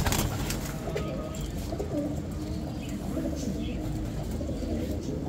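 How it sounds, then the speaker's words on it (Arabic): Turtle doves coo softly amid the steady crowd murmur of a busy Baghdad bird market, their low calls faint and partly buried in the background noise. "هذا حمام قمري."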